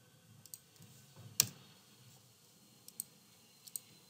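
A computer mouse being clicked at a desk, a few sharp isolated clicks including a quick pair, close and crisp against a quiet background, with no talking.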